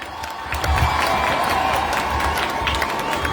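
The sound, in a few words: crowd applauding and cheering at a march past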